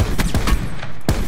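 Rapid bursts of gunfire in Call of Duty: Black Ops 4 Blackout, several sharp shots at a steady pace with a brief pause before a final crack.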